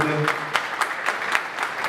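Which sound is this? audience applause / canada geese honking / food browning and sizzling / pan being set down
audience applause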